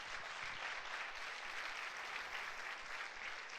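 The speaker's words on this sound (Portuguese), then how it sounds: "Então dê um aplauso ao Senhor Jesus." A church congregation applauds during a service, a soft, steady wash of clapping heard at a distance and fairly faint, continuing evenly for a few seconds.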